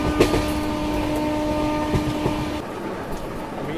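An Indian Railways train rolls along the tracks through farmland, with a steady rumble, wheel clatter and a brief horn-like tone near the start, close and loud with no talk.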